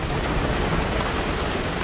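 Steady heavy rain falls during a thunderstorm in Switzerland, heard from an outdoor balcony as a dense, constant hiss with no clear thunderclap or voices.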